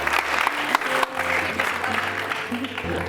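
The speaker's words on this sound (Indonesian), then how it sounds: "Boleh kita berikan tepuk tangan untuk Renggi." Studio audience applause on a televised dating show, dense steady clapping filling the whole stretch, with faint music tones underneath.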